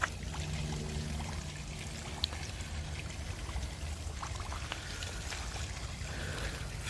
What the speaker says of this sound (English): Oh, they have a water feature.